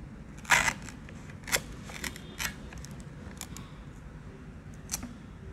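A knife cuts open a ripening banana at room temperature, producing a few short, sharp crackling snips spread out over several seconds, close and fairly quiet, with no speech.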